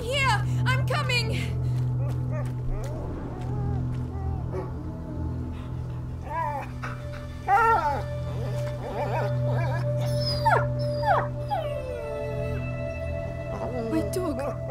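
A wounded dog whimpers and lets out thin, wavering howls in the video game A Plague Tale: Innocence, heard under voices and a low, steady ambient drone.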